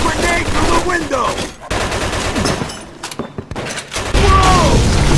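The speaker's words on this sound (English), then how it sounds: "Looks like we found the machine gun!" Machine gun fire in the Mafia 2 video game, loud rapid bursts and booming shots in a chaotic firefight, with brief pauses between volleys and shouting voices mixed in.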